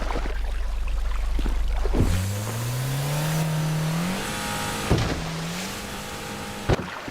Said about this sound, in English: Durk and Vaughn ditched the boat and went to their car and drove away